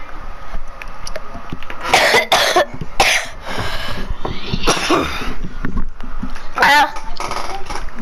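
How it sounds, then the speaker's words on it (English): A young man coughing repeatedly in short, harsh bursts during a Minecraft gaming session, fairly close, with other voices talking around the coughs. "I'm not dying, I'm just coughing."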